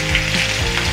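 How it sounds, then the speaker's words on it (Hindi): Dry and green chilies sizzle in melted butter for a dhaba-style dal tadka, a continuous close crackling fry with no voice. "बटर मेल्ट हो गया, अब मैं डालूंगी इसमें 2 सूखी मिर्च, 1 हरी मिर्च तो बारीक कटा हुआ"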